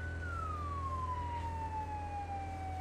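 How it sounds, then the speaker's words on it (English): A fire engine siren from the video game Firefighting Simulator wails steadily in a long, slowly falling tone over a constant low engine drone, loud and close with no talking. "Get that siren going."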